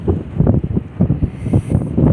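Strong wind buffets the microphone in gusty, uneven bursts, a loud close rumble with no voices.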